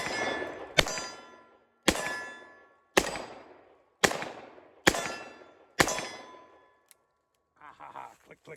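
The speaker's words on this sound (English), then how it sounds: "let's just pop some 38 specials through this old J-frame here" Six sharp, loud reports from .38 Special rounds fired through an old J-frame revolver, spaced about a second apart, each with a ringing decay, followed by a faint click and brief rustling.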